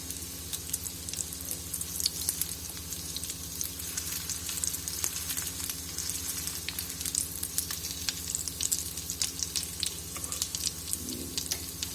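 A potato sandwich crisps in a pan, giving a steady close sizzle and frying crackle with faint scattered pops throughout, and no talking.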